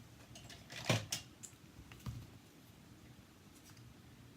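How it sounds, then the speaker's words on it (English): Scissors snip small paper pieces off a craft card, giving a few quiet, sharp cuts early and a softer one later against a faint, near-silent background. "Now I'm going to cut off those little pieces that I don't need."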